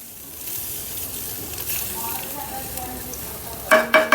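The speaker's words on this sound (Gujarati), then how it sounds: "હવે એને હલાવી નાખીએ" A vegetable curry with fresh coriander is stirred in a pan over a steady sizzle, the spoon scraping softly before a few louder clattering strokes at the end.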